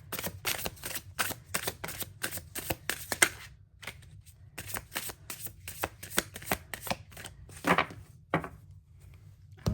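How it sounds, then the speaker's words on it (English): Tarot cards are shuffled by hand in rapid, crisp riffling bursts with brief pauses between runs, close and alone without talk. "Also, I'm sorry if you don't like the way I shuffle."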